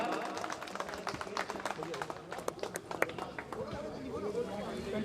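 Audience applause at a journalists' association event in India, a dense patter of clapping with crowd chatter and movement throughout, fairly distant and steady for several seconds.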